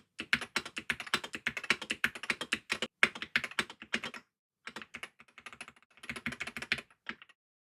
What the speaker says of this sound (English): let's now see what happens when I type S and T in sequence real quick.